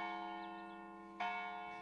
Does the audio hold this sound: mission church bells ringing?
yes